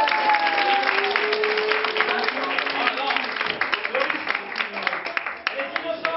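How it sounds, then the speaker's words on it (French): A studio audience breaks into sustained applause, many hands clapping densely and evenly for several seconds, with voices speaking over the clapping. "Elle est innocente, vous pouvez l'applaudir."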